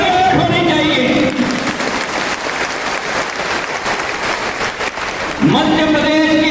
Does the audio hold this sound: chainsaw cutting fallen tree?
no